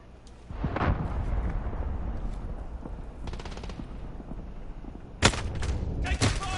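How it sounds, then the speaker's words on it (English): Explosions and rapid gunfire from an allied cruise missile strike in a PS4 shooter game, with a rumbling blast near the start and sharp, loud bursts later, all over continuous battle noise. "Allied cruise missile away."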